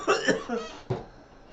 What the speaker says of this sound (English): That cough there is real